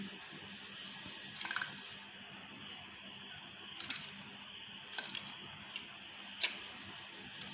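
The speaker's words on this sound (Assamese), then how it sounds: "এতিয়া মই এই কেঁচিখনেৰে সৰু সৰুকৈ এইখনক কাটিম।" Scissors cutting sun-dried chili into small pieces: a few sharp, separate snips spaced a second or more apart, over a steady background hiss.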